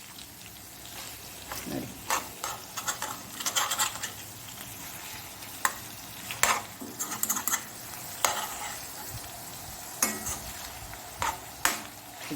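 Mackerel masala fries in coconut oil in a pan with a soft, constant sizzle. Sharp metallic scrapes and clinks from a spatula come in bursts throughout, and a voice briefly speaks once.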